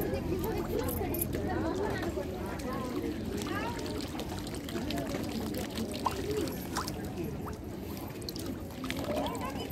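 Ganges water poured into a bottle at Belur Math, a continuous trickling splash close by, with people talking in the background.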